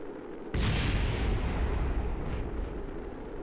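A spacecraft blows up in the video game Kerbal Space Program with a sudden loud explosive burst, then a sustained roaring rumble carrying on to the end, no talk over it.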